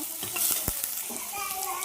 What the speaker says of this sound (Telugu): మిర్చి బాగా వేగుతూ ఉన్నాయి కదా